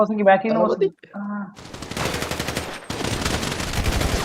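Rapid bursts of video game gunfire during a PvP match crackle continuously for a few seconds, loud and dense, following a short stretch of speech.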